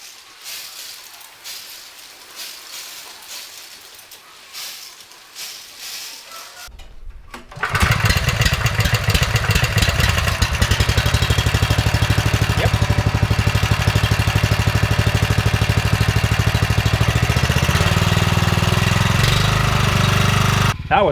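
A two-wheel tractor's small engine rumbles quietly at first, then roars loudly and steadily after several seconds, running continuously at close range with no talking.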